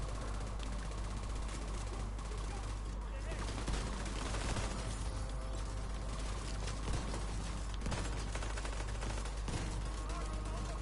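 SMG bursts in The Division 2, dense rapid gunfire layered with constant game noise, loud and continuous with brief sharper cracks throughout.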